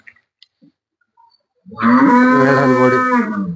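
A Holstein Friesian cow at a cattle sale gives one long, loud, close moo lasting nearly two seconds, after a few faint clicks and rustles in near silence.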